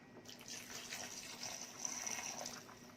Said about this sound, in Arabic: ونحط شويه نص كوبايه ميه كده